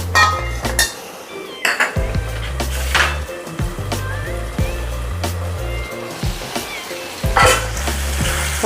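Homemade tomato pizza sauce cooks in a pan over a medium gas flame, with a steady sizzle broken by repeated clinks and scrapes of a utensil against the pan, close and fairly loud.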